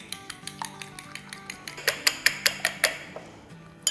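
Eggs with salt and crushed chili whisked in a bowl for an omelette, a quick regular run of close metallic clinks as the utensil strikes the bowl, about four per second, growing sharper toward the end.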